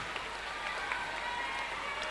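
Crowd at a school swim carnival applauding and cheering a young swimmer, a dense continuous patter of clapping with scattered shouts throughout.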